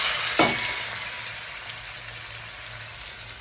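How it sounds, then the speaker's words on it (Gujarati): Tomatoes dropped into hot tempered oil for a Gujarati vegetable dish hit the pan with a sharp burst, then settle into a loud, even, continuous sizzle close by, with no talking. "ટમેટા નાખી દીધા છે. હવે આને થોડાક એને ચડવા દેવાના છે."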